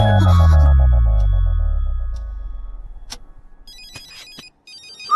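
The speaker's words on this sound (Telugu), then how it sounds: "మామయ్య ఫోన్." A mobile phone rings in a comedy film scene: electronic ringtone tones sound out after a falling low swoosh at the start, with short repeated beeping near the end.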